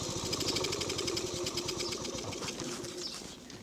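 Honda PC50 moped engine running out of fuel, a steady, loud buzzing run that sags and thins slightly toward the end.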